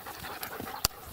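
A dog lying nearby while branches are hauled outdoors for a bonfire pants softly, a faint breathy rhythm with one brief louder click or sniff partway through, no voices.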